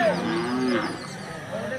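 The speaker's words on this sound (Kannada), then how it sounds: "ಬರ್ತಾವ ದನಗಳು ಬರ್ತಾವ" Hallikar cattle moo several times at an outdoor cattle market, the drawn-out calls heard nearby over a busy background murmur.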